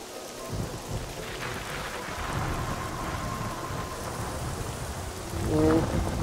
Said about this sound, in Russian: А, вот и дождь пошел.